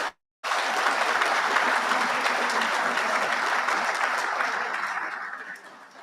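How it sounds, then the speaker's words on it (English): Audience applause at a Marine Corps awards dinner for a Navy chief petty officer, a loud sustained burst of many hands clapping that starts abruptly after a brief silence and slowly tapers off toward the end. "a round of applause for Chief Petty Officer Edwards"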